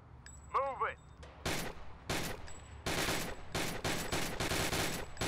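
Gunshots from a VR shooting gallery game, Gun Club VR, fired in rapid bursts of sharp broadband cracks after a few quieter sounds, loud and close with little pause between shots.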